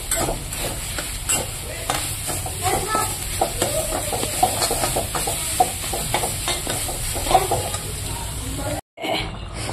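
Gourd leaves and other greens are stir-fried in a pan, giving a steady sizzle with frequent scraping stirs and brief louder clatters that end in a sudden cut near the end.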